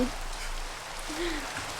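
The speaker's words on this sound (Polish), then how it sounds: "No ale leje." Rain pours steadily in Minecraft, a constant hiss of falling water, with a brief low voice murmuring over it.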